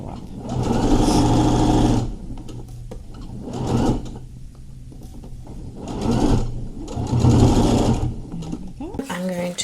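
A domestic sewing machine stitches a fleece hat in several bursts, running steadily for a second or two and then pausing, with a final quick whir at the end; close and fairly loud.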